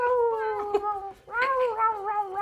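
A cat meows in long, wavering cries that rise and fall, with a brief dip near the middle, close and fairly loud with no talk over it.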